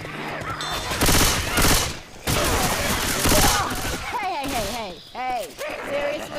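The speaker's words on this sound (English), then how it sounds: "And I like to shoot Nick in the pants" Gunfire from the Left 4 Dead 2 Dark Carnival level comes in loud, dense bursts of rapid shots with brief gaps, and a voice is heard toward the end.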